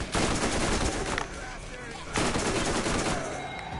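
SMG fire in Borderlands: two dense bursts of rapid automatic shots, loud and close, separated by a short gap and mixed with game effects.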